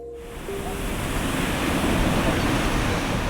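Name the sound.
ocean waves at Greystones beach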